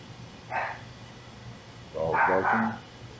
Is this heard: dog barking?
yes